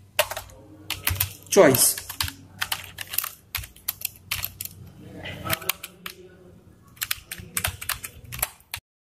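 Quick, irregular keystrokes on a computer keyboard while C++ code is entered, clicking in bursts close to the microphone, with a voice speaking between and over the typing.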